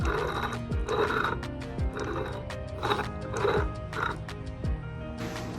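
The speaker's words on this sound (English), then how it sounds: "like a crunchy bearing noise." A Foxbody manual transmission behind a 331 stroker, rotated by hand, makes rhythmic crunchy scraping surges with a thump at each turn, repeating about once a second, close up and with no voices.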